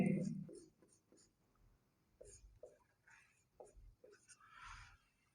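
Someone writes out a maths expression by hand during a computer science lesson, with soft scratchy pen strokes in short bursts, near and faint, and some voice sounds mixed in.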